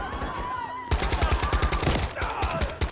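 Rapid automatic gunfire in Modern Warfare III erupts after a brief lead-in, a loud, fast, evenly spaced burst of shots that runs to the end, with game dialogue faintly underneath.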